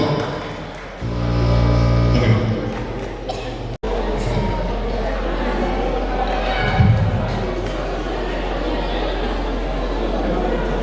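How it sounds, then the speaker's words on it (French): Crowd of parents and guests at a kindergarten graduation ceremony, a sustained loud wash of clapping and chatter that runs unbroken after a brief amplified tone, with voices talking among the noise. "Applaudissez-le, s'il vous plaît. On applaudit."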